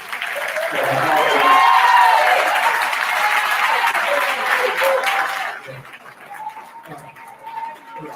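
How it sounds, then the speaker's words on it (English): A crowd claps in sustained applause for several seconds, then the clapping fades out while birds coo faintly nearby. "we want to ask everybody to give a round of applause to Mayor Lightfoot."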